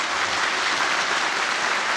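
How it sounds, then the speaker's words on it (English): Steady, dense audience applause filling a lecture hall after a talk on sustainable development at an award lecture, continuous and fairly loud throughout with no pauses. "please give them another big round of applause to thank them"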